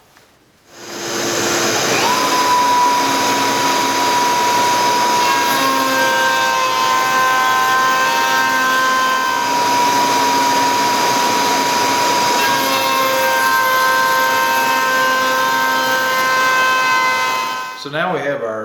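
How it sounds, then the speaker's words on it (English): A router table runs steadily as door trim is fed through to cut a bead for Craftsman-style door casing, a loud sustained whine with shifting tones that starts abruptly and stops near the end, no talking. "I've got the router table set up, so we'll go ahead and run it through and see what we end up with."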